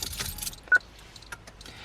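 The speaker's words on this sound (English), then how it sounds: "If I just turn the ignition on" A car key jingles and clicks in the ignition as it is turned on, with one short sharp click and lighter metallic rattles around it. The sounds are close, over quiet cabin background noise.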